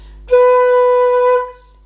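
One held flute note, a B natural, sounds pure and even for about a second, then fades out; nothing else is heard.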